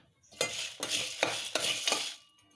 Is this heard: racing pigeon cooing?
no